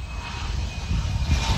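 A Hawker business jet from Orlando moves past at Cleveland Hopkins airport, its engine giving a steady broadband roar with a thin whine, moderately distant and with no voices.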